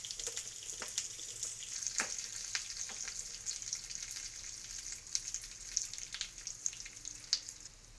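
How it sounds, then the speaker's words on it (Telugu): A tempering of mustard seeds, cumin, dried red chilli and curry leaves fries in hot oil, a quiet steady sizzle dotted with sharp crackles and pops throughout. "1 స్పూన్ ఆవాలు, 1 స్పూన్ జీలకర్ర, 1 ఎండుమిర్చి, కొంచెం కరివేపాకు వేసుకుని ఫ్రై చేసుకోవాలి."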